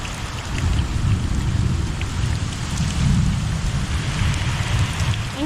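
Heavy rain pours down in a storm, a loud, dense, continuous roar with deep rumbling swells like distant thunder and no voices.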